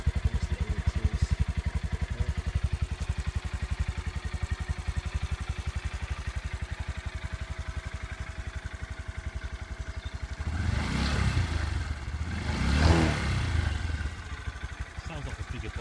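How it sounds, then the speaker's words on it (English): A Honda MSX 125 Grom motorcycle idles with a quick, even putter from its exhaust, then is revved twice in swelling bursts before settling back to idle, heard up close. "So I'll just quickly start it up so you can have a little bit here of the exhaust pipe there."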